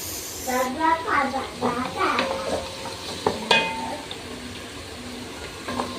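Onions for pancit canton fry in a pan with a close, crackling sizzle and stirring sounds, while a voice talks over the first half.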